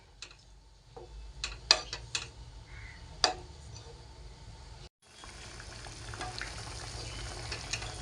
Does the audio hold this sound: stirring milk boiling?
yes